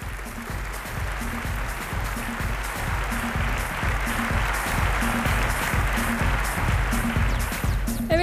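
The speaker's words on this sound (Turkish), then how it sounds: "Onları kuvvetli alkışlarınızla uğurluyoruz" An audience at the Miss Turkey 2015 beauty pageant claps steadily to see off the contestants. The dense, even applause sits over a pulsing rhythmic music beat that continues throughout.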